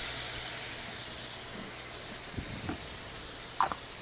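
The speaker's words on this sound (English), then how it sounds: "let them steam." Skirt steaks on a griddle, steaming under a lid after water is added, produce a soft continuous hiss at moderate level, broken by a few faint knocks near the end.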